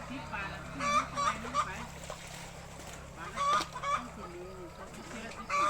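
Chickens cluck and call repeatedly close by in a rural yard, short bursts of clucking coming in clusters over a low background hum.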